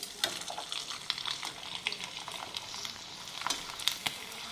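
Sun-dried sabudana and potato chakli frying in hot oil make a soft bubbling crackle, with light scattered pops and ticks rising and falling, close but fairly quiet with no speech.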